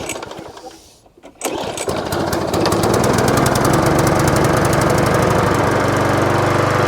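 Small engine fitted with a cheap Amazon copy carburetor, after a quiet dip it starts and settles into a loud, steady, rapid-firing idle that runs continuously and close by.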